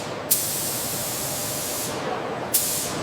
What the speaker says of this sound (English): Anti-rust paint protects the train from damage.